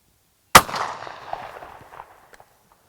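A single loud shotgun blast from a gun fitted with an improved cylinder choke, fired at a target 30 yards away outdoors, with a sharp crack followed by a long fading rumble and echo.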